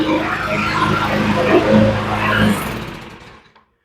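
A repaired Toro Recycler 22 self-propelled lawn mower runs loud and close, its engine a busy, rough mid-range roar that swells and then cuts out to silence near the end.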